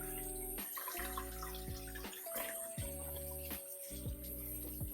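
Cold tap water runs steadily into a container for washing chanterelle mushrooms, a close, continuous splashing rush broken by a few brief pauses, with no talk.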